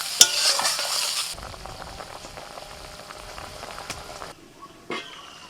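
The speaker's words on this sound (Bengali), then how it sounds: "আমগুলো একটু তেলের মধ্যে হালকা করে নাড়াচাড়া করে নিয়ে জল দিয়ে দিচ্ছি" Mango pieces stirred in hot frying oil for a Bengali sour fish curry give a loud, close sizzle and scrape that drop after about a second to a steady, softer frying hiss, with a few sharp clinks.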